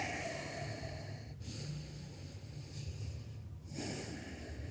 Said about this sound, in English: just noticing your long, smooth Ujjayi breaths